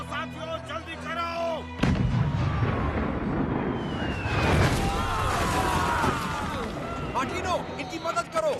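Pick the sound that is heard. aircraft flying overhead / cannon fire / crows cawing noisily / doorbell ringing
cannon fire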